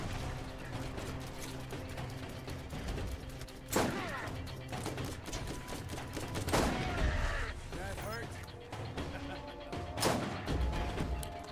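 Grenades going off in the Borderlands video game: three loud, booming blasts spaced a few seconds apart over a constant bed of game noise and gunfire.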